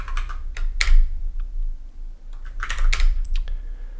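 Quick bursts of typing on a computer keyboard while entering a terminal command, close and crisp clicks in two short clusters with brief pauses between, no talk.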